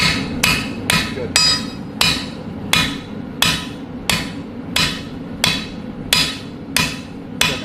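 A blacksmith hammers hot metal on an anvil, with about twelve loud, ringing strikes falling in a steady, even rhythm over a low, continuous forge rumble.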